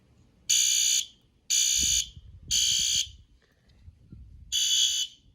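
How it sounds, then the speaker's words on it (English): A newly installed fire alarm panel system sounds after a manual pull station is activated, giving four loud, piercing electronic horn blasts of about a second each, with brief gaps and faint handling noise between them. "There it is. Alarm activated."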